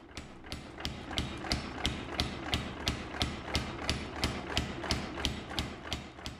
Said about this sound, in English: I like to incorporate some drop forging into the process at times